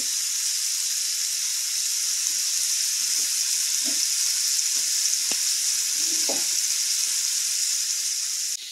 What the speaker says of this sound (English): put your meat in here and don't flip it until it starts getting good and brown